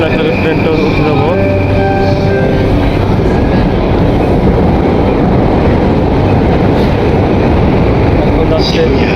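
Tokyo commuter train, headed for Shinjuku, rumbling loudly and steadily at close range, with a rising tonal whine early on and continuous rail noise throughout as people talk nearby.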